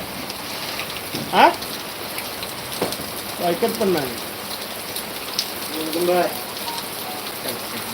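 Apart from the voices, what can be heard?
heavy rain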